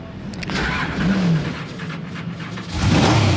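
A powerful 9.7-litre drag car engine rumbles loudly nearby, its revs surging twice in heavy bursts over a deep, rough idle.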